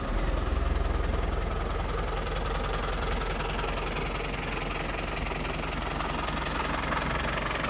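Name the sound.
1996 Land Rover Defender 300 Tdi diesel engine idling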